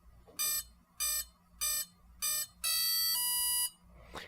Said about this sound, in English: if I click this tick box, you'll hear the ESC tone up